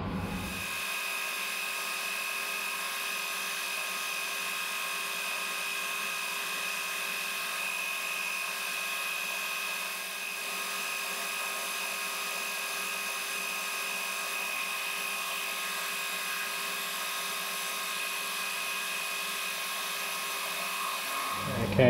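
A steady, continuous drill whine while a 5mm clearance hole is bored through metal for a precision spindle angle tool, holding an even level throughout with no talk.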